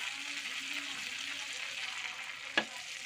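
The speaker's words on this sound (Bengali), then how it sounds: "কড়ায় তেল আছে অল্প, আমি অল্প সরষের তেল দেবো" Mustard oil sizzles and crackles steadily in a kadai that already holds leftover oil and prawn fat. A sharp clack sounds near the end, and there is no talk.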